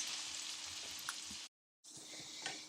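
Roasted poblano peppers cooking with peas and onions in a pot give off a steady, close frying sizzle. The sizzle cuts out briefly partway through, then resumes.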